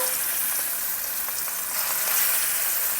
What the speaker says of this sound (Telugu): ఇప్పుడు ముక్క అయితే వేయాలి నూనె కాగింది కదా